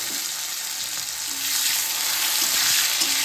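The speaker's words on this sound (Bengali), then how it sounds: "তেলটা গরম হয়ে গেছে, এরপরে দিয়ে দেবো টমেটো আর পেঁয়াজটা" Tomato and onion dropped into hot oil in a wok, a loud, close, continuous sizzle and crackle that swells after the first second and holds steady, with faint stirring underneath.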